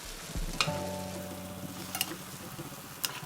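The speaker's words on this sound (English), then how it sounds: "Immediately add the boiling sherbet to the baklava you take out from the oven." Hot sherbet syrup pours with a soft gurgle onto baklava fresh from the oven, followed by a quiet, steady sizzle and faint crackles, close by and without voices.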